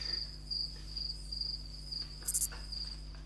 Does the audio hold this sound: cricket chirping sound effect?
yes